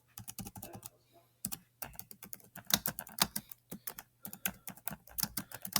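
Close, quiet typing on a computer keyboard, brisk irregular keystrokes in bursts separated by short pauses, with no voices.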